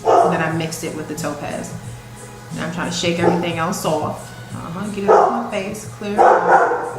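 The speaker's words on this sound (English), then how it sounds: "That is my dog you hear in the background." A pet dog barks and yips in another room, several short bursts rising and falling behind someone talking steadily over them.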